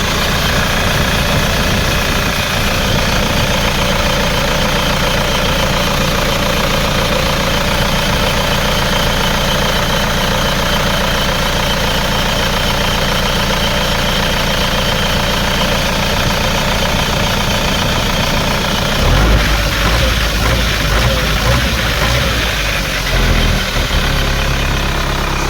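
A 2003 Isuzu Panther diesel pickup idles steadily, its clattering engine close and loud, with an even rhythmic knock that continues throughout and a slight change in tone near the end.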